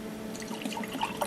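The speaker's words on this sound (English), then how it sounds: "Pour some of the juice out." Grape juice pours out of a plastic fermentation container for homemade wine, a short close gurgling trickle with small splashes.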